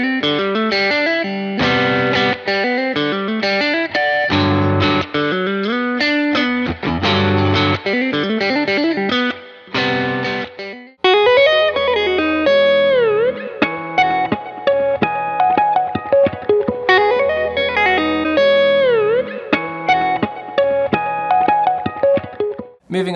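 Math rock / midwest emo guitar riff played at reduced speed, a heavily effected, distorted electric tone with chorus, dense, loud and continuous with shifting tapping-style note patterns and no talk.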